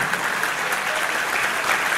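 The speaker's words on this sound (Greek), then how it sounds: "Ένα μεγάλο χειροκρότημα." An audience at a charity cooking evening at a disability care centre in Veria claps for an award-winning seafood executive chef, producing a short burst of dense, even applause throughout.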